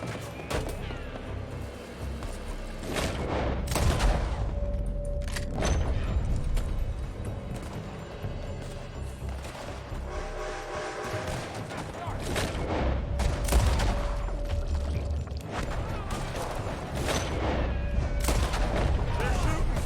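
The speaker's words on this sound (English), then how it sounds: "They're shooting from that building" Video game shootout in a Micah Bell mission: dense, continuous gunfire with overlapping shots and booming bursts throughout, loud and near, with voices shouting over the shooting.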